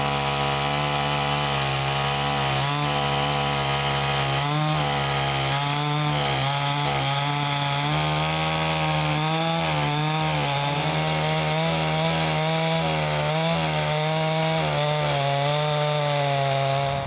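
A chainsaw milling a log on a timber jig runs continuously at a steady, loud pitch, cutting through wood with small shifts in engine load and no talking.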